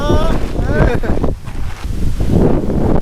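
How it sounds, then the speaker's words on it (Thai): Strong wind buffets an outdoor microphone on a mountain road up Khao Ma Khem, a loud, continuous roaring gust that swells and dips briefly, with voices talking over it. "เพื่อนๆฟังเสียงลมดิ ได้ยินไหม ลมแรงมาก"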